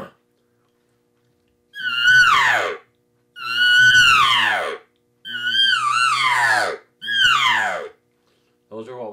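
Four loud, high squealing elk estrus screams, each about a second long and falling in pitch, imitated by a person using a diaphragm call with pauses between.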